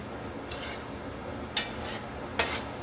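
Arroz con pollo ingredients stirred in a pot, four brief scraping clinks of a utensil spaced irregularly over a faint steady background hiss.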